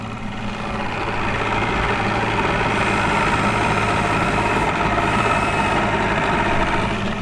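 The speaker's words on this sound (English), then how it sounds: "She fires right up, baby. What do you guys think of the idle sound now?" Outboard motor on a restored bass boat idling steadily, a continuous low rumble with a buzzing tone and faint rattle, close and even in level throughout with no talk.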